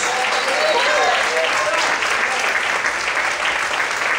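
A church congregation claps steadily and loudly during a pastor's ministry, a thick, unbroken wash of applause with a voice speaking over it.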